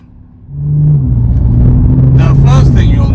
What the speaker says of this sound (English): let's fire it up, buckle up, and go for a drive